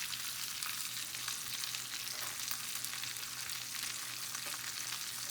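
Steak fries in a pan with butter that is spooned back over it, making a steady, fairly quiet sizzle that continues evenly throughout with no talk.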